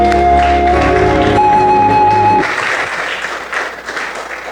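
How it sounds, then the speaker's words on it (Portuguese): A congregation applauds during a Portuguese-language Christian worship service, loud dense clapping over sustained music that drops out midway, leaving the clapping to thin and fade. "uma linda salva de palmas"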